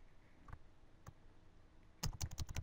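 Typing on a computer keyboard comes through as a few isolated clicks, then a quick burst of several keystrokes near the end. The clicks are close but faint.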